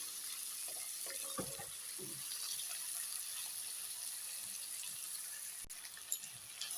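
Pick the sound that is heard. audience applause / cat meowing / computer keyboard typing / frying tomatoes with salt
frying tomatoes with salt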